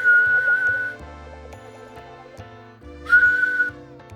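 A person whistles two short high melodic phrases into a CB radio microphone, heard over a steady low electronic hum and buzz with pulsing tones underneath.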